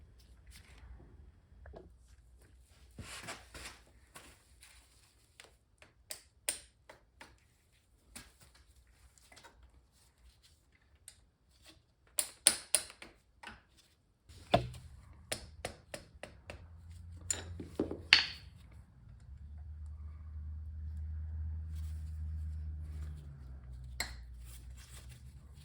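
Wrench work on PB Blaster-soaked bolts of a Harley-Davidson Sportster 883, with scattered metallic clicks, taps and clanks in a quiet garage, then a steadier low rumble toward the end.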